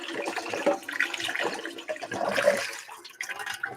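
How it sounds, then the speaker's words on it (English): Tap water splashes and gurgles as the glass top half of a syphon coffee maker is rinsed out at a sink, an uneven, close wash of water for a few seconds. "So from here, we want to rinse out the top half."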